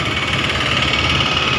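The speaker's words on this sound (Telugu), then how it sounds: "ఇప్పుడు ఆ ఇంజిన్ సౌండ్ వచ్చేస్తుంది" A Maruti 800 car engine runs at a steady idle, giving a continuous close-up mechanical hum with a slight vibrating texture and no voices.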